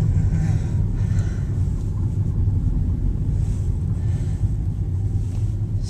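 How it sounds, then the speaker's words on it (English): Steady low engine and road rumble from a car pulling away after work, loud and continuous with a hiss of wind noise over the top. "Just driving off now."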